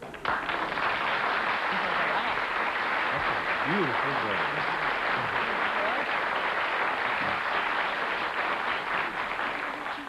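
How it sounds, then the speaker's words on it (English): Studio audience of a 1972 syndicated game show applauds steadily and loudly throughout, with a presenter's voice speaking briefly over the clapping. "That deserves applause"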